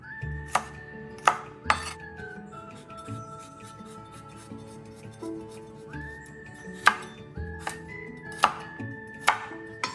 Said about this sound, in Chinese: 中间这比较粗的叶梗不要浪费，像视频中这样处理后切成小块状